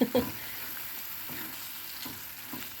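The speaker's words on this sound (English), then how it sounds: "Carl, me glamorous assistant's mixing it in for us" Leftover turkey vindaloo curry being stirred in a hot pan after boiling water goes in, a steady sizzling hiss with a couple of sharp knocks at the start and soft scraping strokes through the rest.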